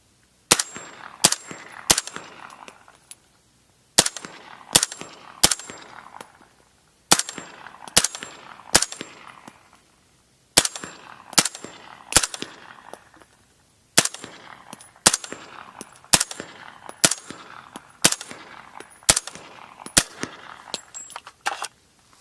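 Suppressed 300 Blackout rifle shots fired with a small can, about twenty sharp reports in quick clusters of three or four with brief pauses between groups, loud and close with no talking.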